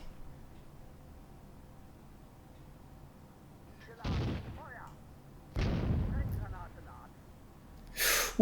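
Gunfire in the Firefight war game: two heavy muffled blasts, one short and one longer rumbling burst, then a sharper crack near the end, over a quiet background.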